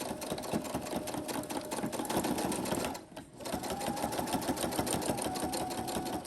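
A sewing machine stitches fabric steadily, sewing a bowl cozy along the presser foot edge. The rapid needle rhythm runs loud and close, breaks off briefly midway, then carries on at the same pace.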